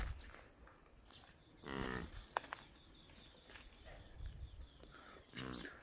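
Buffalo mooing on a farm, two deep drawn-out calls several seconds apart, moderately near, with quiet rustling and background noise between them.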